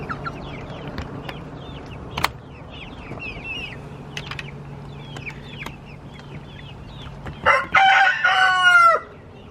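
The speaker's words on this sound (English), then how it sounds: "I've got about 5 roosters, I think." Among a backyard flock of hens and several roosters, a rooster gives a loud crow near the end, after quieter clucks and bird chirps over a low steady hum.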